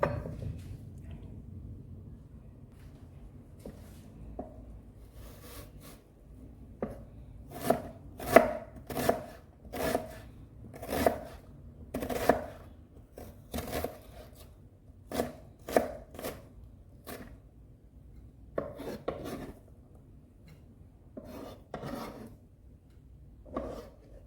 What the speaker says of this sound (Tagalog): Hiwain natin siya ng mga uh, maliliit.